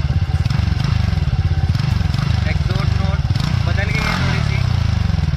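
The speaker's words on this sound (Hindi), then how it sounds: "रेस मोड की आवाज़ है।" A modified TVS NTorq scooter's exhaust note in race mode rumbles steadily up close for several seconds, rising slightly at times, with someone speaking over it.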